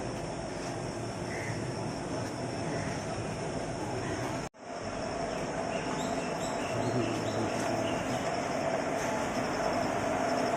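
Steady rumble of a train at a platform, continuous and fairly loud, with a brief sharp dropout midway and faint bird calls above.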